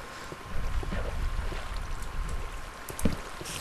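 Water flowing through an underground passage in the Minecraft video game makes a steady broadband rush, moderately loud and continuous, with a few brief splashy bumps and no talking.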